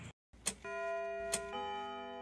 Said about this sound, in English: Ding dong, rang the bell.